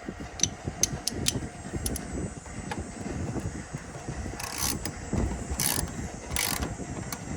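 Bolts being threaded and ratcheted down on the valve cover of an Allis-Chalmers 7045 tractor, rapid close ratchet clicks in bursts with metallic clinks, set against a steady mechanical hum.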